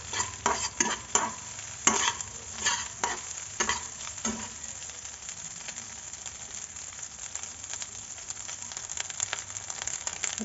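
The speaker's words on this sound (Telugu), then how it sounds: "ఇప్పుడు ఇవన్నీ కొద్దిగా బాగా కలుపుకోవాలి. మనము ఇవన్నీ వేసిన తర్వాత హై ఫ్లేమ్లోనే చేసుకోవాలి." Egg fried rice made from leftover rice is stirred and fried in a pan over a high flame, with a steady sizzle broken by repeated scraping spatula strokes, loud and close, early on, then a softer continuous frying hiss.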